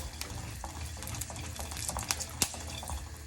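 Spoon stirring sambar in a cooking pot: soft scattered scraping and liquid clinks, faint and close, with a couple of sharper taps against the pot.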